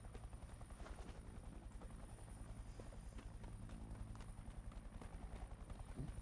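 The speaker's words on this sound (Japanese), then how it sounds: "自分の足音か。" Footsteps of the player's own character in the Knives Out video game, a rapid rhythmic clip-clop thudding over a constant low engine-like rumble, steady and faint.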